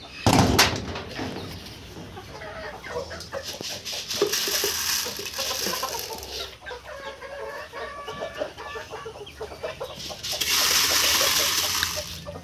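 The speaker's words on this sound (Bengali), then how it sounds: "বাচ্চার আওয়াজ পাচ্ছি" Desi chicks chirp in a chicken room, with high peeping calls repeated through a busy barn background with some clucking and rustling noise and no talk.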